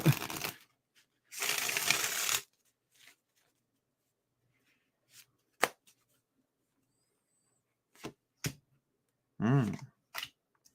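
Tarot card decks being shuffled, a couple of longer riffling bursts and scattered short card snaps and taps separated by quiet gaps, close and fairly soft.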